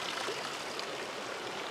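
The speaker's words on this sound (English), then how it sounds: "Water flows out." Water pours steadily out of a Gold Rush Nugget Bucket set in Las Huertas Creek while prospecting for gold, a continuous close rushing trickle with no voices.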